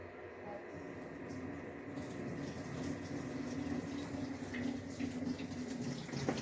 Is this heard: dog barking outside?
no